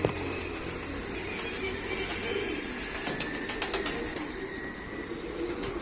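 Racing pigeons in a loft coo steadily over a constant low murmur, with occasional brief wing flutters and clicks close by.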